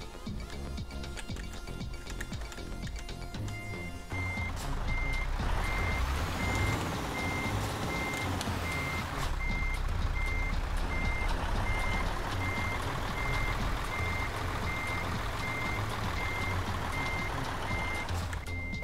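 A heavy truck reversing in Euro Truck Simulator 2 gives a steady, evenly spaced electronic beep that repeats over a loud, continuous engine drone, close and with no voices.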